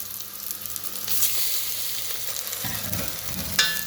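Lamb pieces and onion sizzle steadily in a frying pan, a loud continuous hiss with stirring scrapes growing busier near the end.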